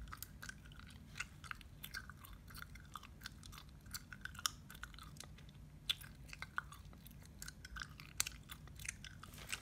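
Gum chewed right at the mouth gives soft, irregular wet clicks and smacks, very close and quiet, repeating steadily in a hushed setting with no talking.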